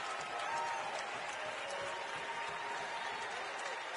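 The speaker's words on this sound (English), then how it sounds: "You can hear the fans starting to clap a little bit in Allen Arena" Basketball fans in Allen Arena clapping during a Lipscomb college game, faint steady crowd applause heard from a distance.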